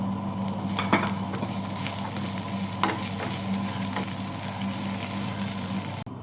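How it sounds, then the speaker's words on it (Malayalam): Coriander leaves sautéing in a pan for a rice flakes dish, a steady close sizzle with a few light stirring scrapes and clinks, continuous and even throughout with no talking. "ഇനി നമ്മളിട്ടിരിക്കണം മല്ലിയില അതും നമുക്കൊന്ന് വാട്ടിയെടുത്തേക്കാം"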